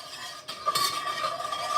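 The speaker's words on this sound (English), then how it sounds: "So let me get my whisk" A whisk stirs salt and vinegar pickling brine in a pot, making a quick metallic scraping and clinking against the sides that lasts under two seconds, close up and with no talk.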